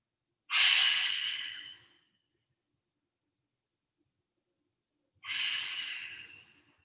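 Two deep, audible breaths, each a long exhale, spaced several seconds apart with silence between, taken while holding a bone-strengthening yoga pose.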